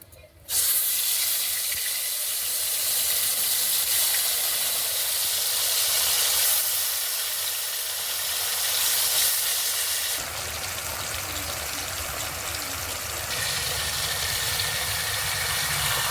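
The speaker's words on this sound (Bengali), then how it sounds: "কড়াই ওই তেলেতেই মাছগুলো এবার ভেজে নেব।" Lote fish fry in hot oil in a wok, giving a loud, continuous sizzling hiss that starts abruptly and holds steady throughout, dense and close, with no talking.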